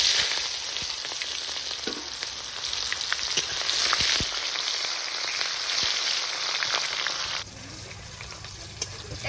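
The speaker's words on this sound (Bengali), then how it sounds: "এই দেখুন পেঁয়াজটা একটু ভাজা হয়ে গেছে লাল মতন।" Chopped onions frying in oil with star anise, whole garam masala and mace for mutton curry. A loud, close, steady sizzle with occasional stirring scrapes, dropping noticeably quieter near the end.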